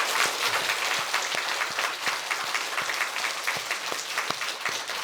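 A church congregation claps together for a sustained stretch of loud, dense applause, individual hand claps standing out sharply within the steady wash of sound.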